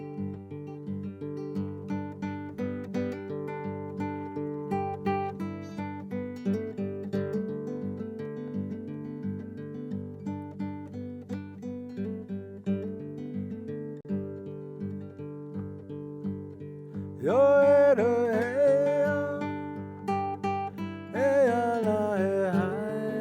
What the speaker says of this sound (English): I call this style of finger picking Native Americana.